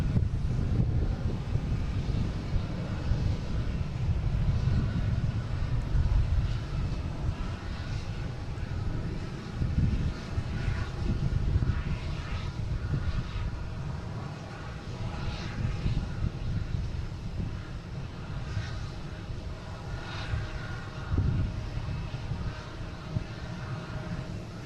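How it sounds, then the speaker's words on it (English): A Delta Boeing 757-200 takes off from Boston Logan bound for LAX, a deep continuous roar with gusty wind buffeting the microphone, loud and sustained throughout. "we have Delta taking off to LAX"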